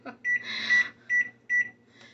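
Kitchen oven beeping as it is set for baking, four short electronic beeps, the first held longer, close and clear against a faint low hum.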